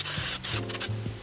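Cooking spray hisses in short bursts over a 9x13 baking pan, several quick sprays with breaks between, close and bright over faint kitchen hum.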